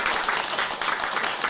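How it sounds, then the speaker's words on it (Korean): A church congregation in Korea applauds during a pastor's ordination service, a dense and steady round of clapping at moderate loudness with no pauses. "박수 한번 하겠습니다."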